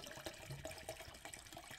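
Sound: pouring water

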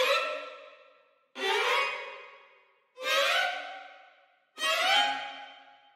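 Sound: orchestral violins playing ascending runs, sample library

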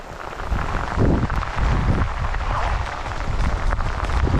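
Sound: heavy rain falling

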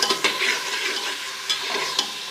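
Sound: stirring beef karahi in the pan

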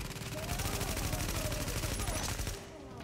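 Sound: blind gunfire in video game The Division

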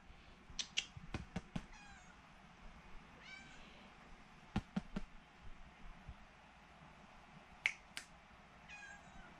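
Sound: young cat whining

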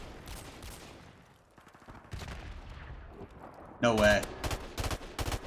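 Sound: gunshots from a video game

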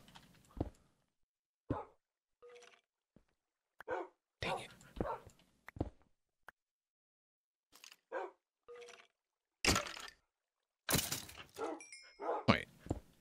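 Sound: dogs in Minecraft, video game

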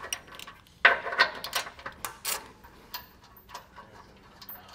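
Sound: removing bumper beam bolts with a 15 millimeter socket

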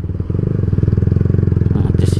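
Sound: motorcycles on the road at night

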